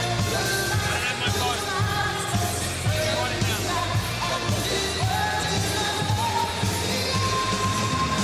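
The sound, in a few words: crowd applauding and cheering at fight event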